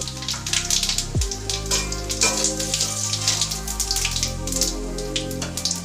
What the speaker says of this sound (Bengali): এই তেলের মধ্যে ফোড়ন দেবো শুকনো লঙ্কা,